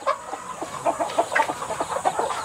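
Native chickens cluck softly and repeatedly nearby, a steady stream of short clucks with no talking.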